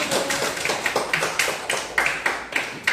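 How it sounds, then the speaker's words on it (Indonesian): A class of children claps together in a rhythmic series of sharp, close hand claps, roughly evenly spaced, with no talk over them. "Oke, tepuk tangan untuk semua anak-anak."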